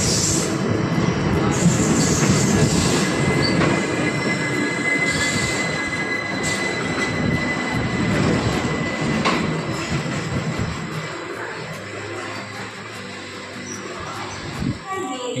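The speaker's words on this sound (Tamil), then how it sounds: "ட்ரெயின் இப்போ வரும். வந்தாச்சு ஃப்ரெண்ட்ஸ் இப்போ ட்ரெயின்." Passenger train rolling into a station, a loud continuous rumble of wheels and carriages with sharp squeals and clanks, fading slightly toward the end.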